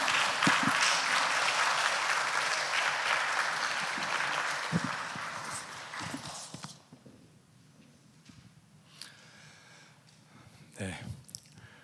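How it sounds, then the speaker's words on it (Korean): A church congregation at Sunday worship applauds to welcome an elder coming forward, with dense, loud clapping for several seconds that then drops away to scattered claps, footsteps and shuffling in the quieter hall. "우리 장로님 나오실 때 박수로 축복하고 환영해 주시기 바랍니다."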